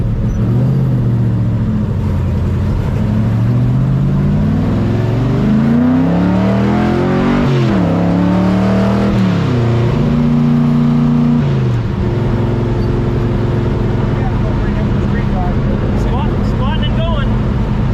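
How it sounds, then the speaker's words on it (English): A Tri Five Chevy race car engine revs loud and close while driving, its pitch climbing and dropping through several throttle surges and shifts, with people talking over it. "what are you doing driving a race car on the street?"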